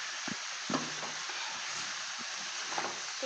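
Chicken karahi bubbles and sizzles quietly in a pan, a steady hiss broken by a few soft clinks and stirring knocks.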